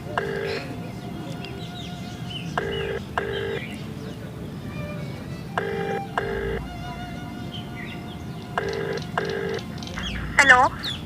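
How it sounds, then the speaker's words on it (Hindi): A phone call rings out through the handset: a repeated ringback tone in short double bursts separated by pauses, with steady background hiss and a brief faint chirp near the end. "तो जस्सू एक काम करो, आप एक बार फ़ोन कर लो उसे।"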